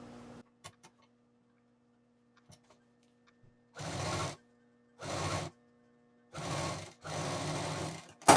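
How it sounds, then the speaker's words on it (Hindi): A sewing machine stitches a zip onto a shoulder bag in four short bursts of steady rapid whirring, separated by pauses with faint clicks and a low hum, close by and with no talk. "अभी एक जिप हमारी खुली रहेगी, जो पहले जहाँ पर जिप को जॉइंट किया था वहाँ पे रखेंगे और इसको सिल देंगे।"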